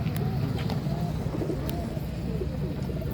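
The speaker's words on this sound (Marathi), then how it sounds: "ही कपलटेडी मधलं कबूतर आहे." A Kapaltedi pigeon gives soft, low cooing close by amid a murmur of background noise and brief chirps from other birds.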